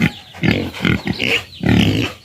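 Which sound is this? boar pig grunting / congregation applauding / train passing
boar pig grunting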